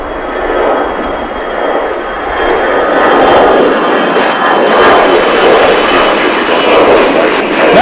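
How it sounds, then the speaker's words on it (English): A Delta airliner departs DFW airport for Salt Lake City with a loud, swelling jet roar that builds and holds steady, close and dominant, with a little talk underneath. "that was Delta Flight 1389 on its way to Salt Lake City"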